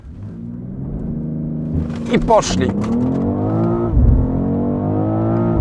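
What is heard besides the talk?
BMW X3 M Competition flooring throttle, accelerating hard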